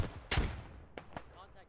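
A loud burst of video game gunfire followed by two quicker, fainter shots, with a brief voice-like murmur underneath.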